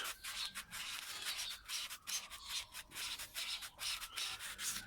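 Fine 2500 grit sandpaper worked by hand on a small fibrous single-layer tip, a quiet rhythmic scratchy rubbing in short repeated strokes, close and soft with no talking.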